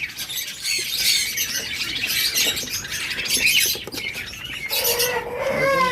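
A pair of same-coloured cage birds, lovebirds or budgerigars at a bird seller's, chirp and squawk continuously and close by, in busy overlapping bursts with no talking.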